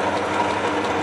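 A Sieg milling machine converted to flat belt drive, with a fly cutter fitted, runs steadily with a dense, even mechanical whirr and faint ratcheting clatter, close and continuous without any talk.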